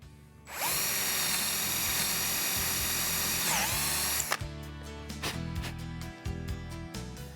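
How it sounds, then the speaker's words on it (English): A power drill whines at high speed, boring a hole for an alignment pin through a wooden miter box fence, then stops and gives several short bursts with clattering in between. "Now I can drill a hole for the alignment pin or the locking pin"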